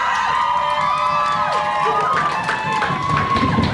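A crowd gathered outside a music television studio window cheers and shouts, a bright mass of many overlapping young voices and whoops, loud and continuous through the whole moment.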